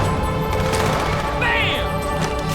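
Gunfire in the Halo 2 video game, a dense stream of rapid shots and impacts over steady game noise, with a voice talking throughout.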